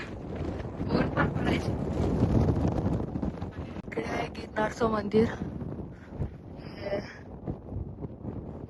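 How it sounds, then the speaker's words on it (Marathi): Strong wind buffets the microphone near the summit of Girnar hill, a rumbling gusty roar under a person talking. "वारा एवढा आहे ना"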